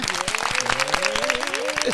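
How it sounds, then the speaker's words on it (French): Audience applause greets guest Nathan Samba on a French talk show, a steady patter of claps running through the whole moment while a voice speaks over it. "On l'applaudit."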